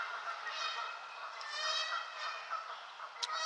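Geese honking as they return at the end of winter, a continuous chorus of overlapping honks heard at a distance, fairly faint and steady throughout.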